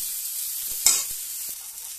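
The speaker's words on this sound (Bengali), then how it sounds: "আলুগুলো একটু ভালো করে লাল করে নেবো, হালকা লাল করে, হালকা নেড়ে আমি এর মধ্যে হলুদ দিয়ে দিচ্ছি।" Potatoes frying in a pan with turmeric added, a steady high sizzle with a couple of soft utensil knocks and one brief louder scrape as they are stirred.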